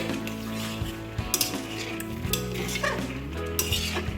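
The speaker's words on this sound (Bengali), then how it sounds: "এবার মিশিয়ে নেবো ভালো করে।" A radish and fish curry being stirred in a pot after a little water is added, giving soft scraping and clinking under a steady low hum, with a few sharper knocks of the utensil against the pot.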